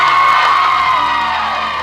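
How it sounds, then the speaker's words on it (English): A crowd of children and adults whoops and cheers loudly at a dog show event for a poodle act, a dense sustained roar of shouting voices that fades slightly toward the end. "cheer!"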